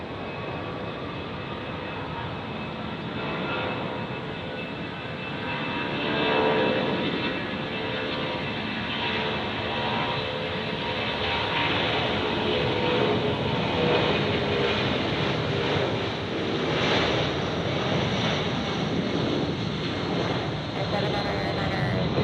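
A jet airliner lands at Tampa International Airport with a loud, continuous engine roar that swells and fades, under radio talk from the tower.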